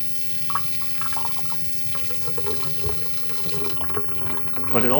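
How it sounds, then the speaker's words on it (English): A sink tap runs to soak a maidenhair fern's pot, giving a steady close stream of water with splashing and a louder gush near the end. "I'm going to take it to the sink and fully moisten it again"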